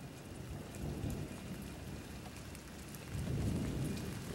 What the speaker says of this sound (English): Alright, here comes the rain.